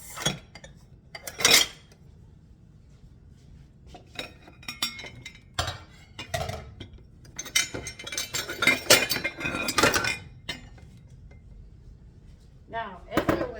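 Spoons and cups clink and rattle in a kitchen as someone rummages through a pile of utensils, with irregular bursts of metallic and ceramic knocks, close and moderately loud, with brief pauses between clusters.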